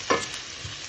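Onions cooking in a pan, a brief soft sizzle with a quick stir at the start, then a low steady frying hiss on its own.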